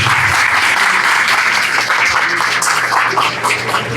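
Dense, loud applause from an audience at a game jam award ceremony, continuous clapping from start to finish with little else over it.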